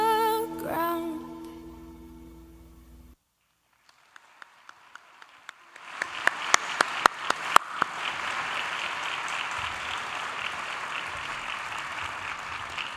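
A school audience starts clapping for students after a sung performance at an education address, scattered claps building into steady, moderately loud applause that follows a brief silence.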